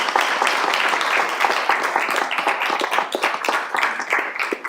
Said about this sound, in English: you got a standing applause